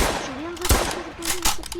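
Police gunfire in the Roblox video game cracks out as a few sharp shots amid a run of rapid fire, with a voice talking over the shooting.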